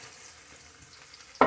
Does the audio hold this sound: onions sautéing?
yes